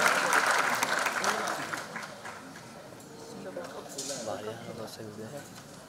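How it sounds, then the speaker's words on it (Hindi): Audience applause at a celebrity event honouring a singer, a loud dense wash of clapping that fades somewhat midway, with voices mixed in underneath. "एक बार जोरदार ताली"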